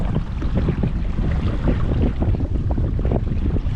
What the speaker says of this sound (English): I can't even hear you, it's so windy.